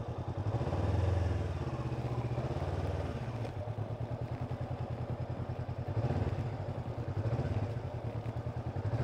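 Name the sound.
motorcycle pulling away at low speed during riding lesson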